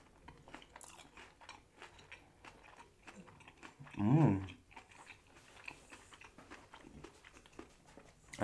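A single crisp crunch as someone bites into a squid ink Korean hotdog, fried and crunchy-coated, heard up close at mukbang volume, followed by quiet rustling and faint chewing sounds.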